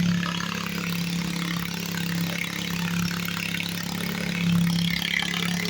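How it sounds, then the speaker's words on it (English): A custom racing garden tractor engine runs steadily and loud, a continuous droning idle with a slight rise in revs near the end, heard alone without talk. "Yeah, that engine working."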